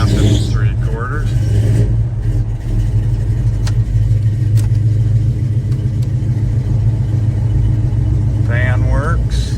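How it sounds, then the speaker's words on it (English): A 1985 Chevrolet Blazer engine runs with a steady low idle rumble close to the microphone, continuous throughout, while someone talks over it. "We're gonna start up our 85 Blazer here."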